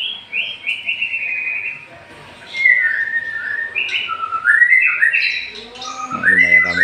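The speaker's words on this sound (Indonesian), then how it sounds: "Nah, lumayan ramai juga kawan burung-burungnya." Songbirds chirp and whistle in bright, varied phrases across a busy outdoor scene, several calls overlapping at moderate distance over a low background murmur.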